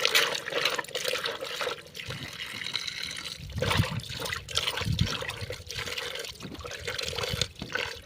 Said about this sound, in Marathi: भाजी आता स्वच्छ दोन पाण्याने आपण देठं चांगली धुवून घेऊया